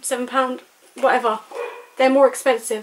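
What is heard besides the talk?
dog barking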